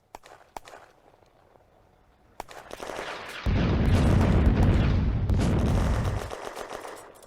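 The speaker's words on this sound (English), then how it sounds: "The Soviet artillery salvo lands without effect" A Soviet artillery salvo crashes down in a WWII Eastern Front video game battle near farmsteads: scattered sharp reports give way to a loud, sustained roar of overlapping blasts lasting about three seconds before fading.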